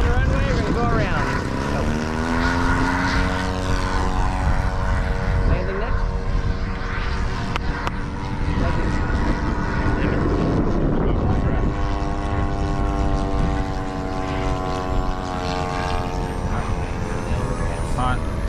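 A radio-controlled P-47 Razorback model airplane flying, its engine droning steadily with rising and falling pitch as it passes, loud throughout, while people talk over it.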